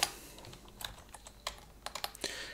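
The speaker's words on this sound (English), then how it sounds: "If I can type straight, that is." Someone types on a computer keyboard in a quiet room: a quick, uneven run of soft, close key clicks and taps with small pauses between bursts, and no talking.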